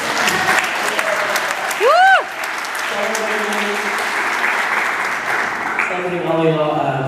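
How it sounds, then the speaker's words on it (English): Crowd at an anthology reading and book exhibition event breaks into full applause, loud and sustained, with a whoop or cheer rising above the clapping and voices and cheers mixed in toward the end. "Can we just give a round of applause for this book and this exhibition?"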